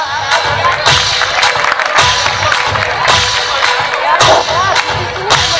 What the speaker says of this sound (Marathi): कृपया टाळी वाजव